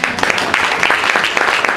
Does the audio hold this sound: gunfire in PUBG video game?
no